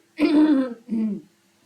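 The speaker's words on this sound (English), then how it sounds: "But I always cough. I will cough." Two harsh, voiced coughs in quick succession, close and loud, the first longer than the second, with silence after.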